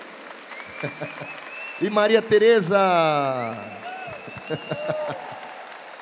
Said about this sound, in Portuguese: Uma salva de palmas para meus filhos